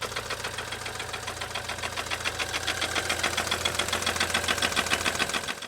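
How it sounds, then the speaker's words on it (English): A BMW Z4 (E89) engine runs with a rapid, rhythmic metallic ticking and rattling from a faulty timing chain, steady and fairly loud throughout. "the noise coming from the engine was the timing chain"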